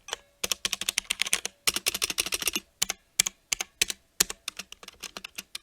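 Fingers type on a Drop Alt 65% mechanical keyboard, producing dense runs of crisp, close clicking keystrokes broken by short pauses, with no voices.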